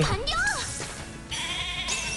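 A sheep monster bleats in the video game Atelier Resleriana, a wavering, pitch-sliding cry heard twice over game music and effects.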